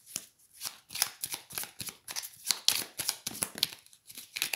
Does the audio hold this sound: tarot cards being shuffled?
yes